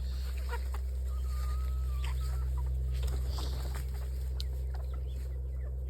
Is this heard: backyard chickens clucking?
yes